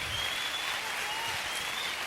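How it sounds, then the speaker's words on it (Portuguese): Church audience applauding during a sermon, a steady broadband patter of many hands that stays even and fairly distant for the whole stretch, with no voices over it. "Pode aplaudir."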